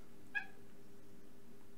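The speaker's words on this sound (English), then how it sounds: "Who's meowing again?" A single short cat meow, faint and distant, rising briefly over a quiet steady background hum with no talk.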